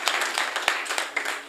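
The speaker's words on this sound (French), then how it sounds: "je voulais que vous applaudissiez ça" Audience applause at a regional event in Goudomp, Sédhiou, a fairly loud, steady patter of many hands clapping with small surges, filling the short stretch without voices.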